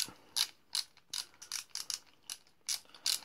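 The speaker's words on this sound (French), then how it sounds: "Donc vous allez dévisser tout simplement dans le sens inverse des aiguilles d'une montre." Ratcheting clicks from a wrench loosening a bicycle pedal nut during pedal maintenance, about nine sharp, evenly spaced metallic bursts close up with no talking.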